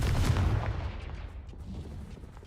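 The Confringo blasting curse in Hogwarts Legacy goes off as a loud, booming burst right at the start, then rumbles and fades away over the next couple of seconds.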